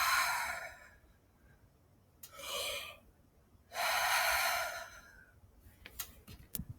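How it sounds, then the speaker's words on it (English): Three slow, deep breaths, each a long airy inhale with soft pauses between, close and quiet, followed by a few faint ticks. "That's deep belly breathing."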